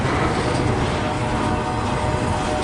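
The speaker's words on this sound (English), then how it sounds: "That's a long train." A long CSX freight train rolls past in Fostoria, Ohio, a dense, steady rumble and roar that stays loud and unbroken without any voices.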